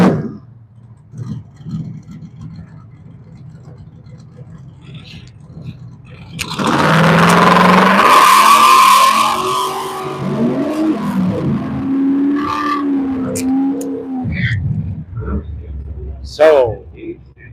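Drag race trucks, including an S10, rev in the burnout box with a father and son at the wheel: a loud roaring surge midway, then rising and falling engine whines, with a commentator talking throughout.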